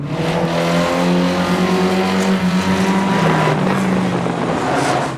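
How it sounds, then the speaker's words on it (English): Banger racing cars roaring around a track, a loud continuous engine drone with shifting pitch as they race close by, with wind buffeting throughout. "Banger racing veteran Terry is struggling to overtake."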